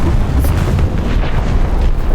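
Big bomb explosion in War Thunder, a loud, dense low rumble of blast and debris that fills the whole stretch without letup.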